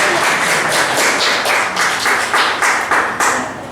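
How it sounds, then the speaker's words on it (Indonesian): A church congregation claps during a Sunday worship service, a steady round of hand claps with distinct rhythmic beats holding at an even level for several seconds before tapering slightly. "Tepuk tangan, beri tepuk tangan."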